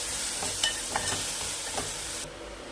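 Homemade garam masala and spices stirred in a frying pan, with a spoon scraping a few times over a bright hiss of oil, before the sizzle drops sharply near the end.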